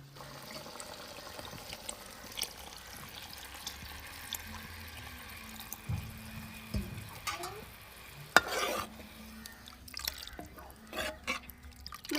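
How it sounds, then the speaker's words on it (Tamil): Stingray curry gravy with tamarind bubbles quietly in a pot, soft sizzling and liquid stirring scrapes, with a few sharper clanks of a spoon against the vessel near the end. "குழம்பு நல்லா கொதிச்சு வரட்டுங்க."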